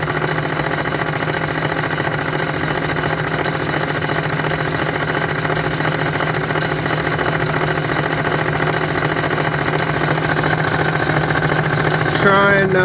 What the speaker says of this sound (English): that chopper noise is because these shell plates obviously have 5 openings in them for the 5 reloading press positions